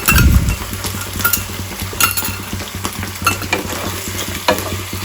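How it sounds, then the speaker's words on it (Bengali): A spoon stirs mushrooms and sauce around a sizzling frying pan, scraping and clinking against the metal at an uneven rhythm over a constant frying hiss, close and moderately loud, with no talking. "খুব ভালো করে মিক্স করে নেবো"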